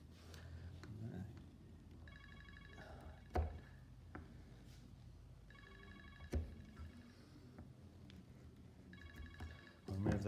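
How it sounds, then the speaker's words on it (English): A mobile phone rings three times in a woodworking workshop, with repeated bursts of electronic ringtone among knocks and workshop noise, while a person talks. "Let's stop my phone ringing."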